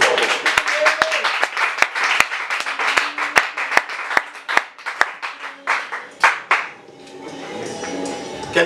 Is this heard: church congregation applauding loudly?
yes